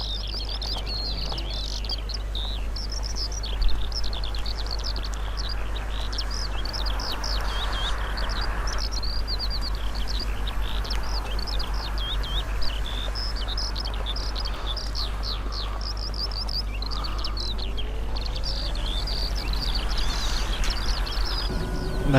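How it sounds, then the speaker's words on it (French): Small birds chirp and tweet in quick repeated bursts behind a steady low hum, likely from a bus simulator game, with the twittering continuing throughout. "Et petits oiseaux qui chantonnent."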